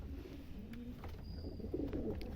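Ghazi-line pigeons coo in low, soft repeated phrases over a steady background murmur, moderately near and without talk.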